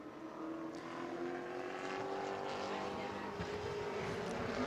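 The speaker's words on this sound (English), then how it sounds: "Brad May in the RK Edwards Bobby Sears Racing number 9 back on track" A Pro Late Model race car runs on track during qualifying at New Smyrna, a steady engine drone that holds fairly constant and rises slightly, heard under the track announcer's voice.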